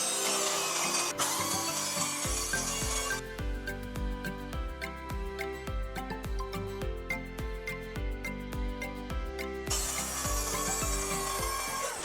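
A saw blade cuts wood for a bed frame. A fast, even rasp of strokes runs for several seconds, with heavier scraping and handling of the timber at the start and end.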